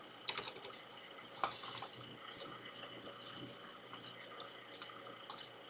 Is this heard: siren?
no